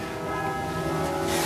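Church bells of the Sanctuary of Vimercate ring together in a full peal, dense overlapping bell tones sounding loud and continuous throughout.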